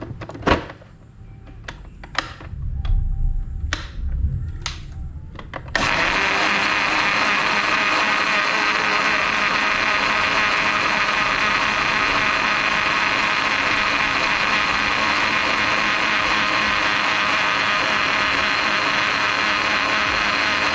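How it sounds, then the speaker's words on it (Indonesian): An electric blender whirs steadily and loudly for a long stretch as it purees rambutan leaves with clean water, preceded by a few sharp knocks and handling clatter before the motor starts. "Lalu kita blender"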